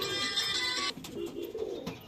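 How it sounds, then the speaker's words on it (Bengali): White Madrasi pigeons coo softly and fairly close by, in a few low, rounded calls against a quiet background after a brief, brighter noise at the start. "হোয়াইট কালার মাদ্রাসি চোখের লাইনে কবুতর রয়েছে।"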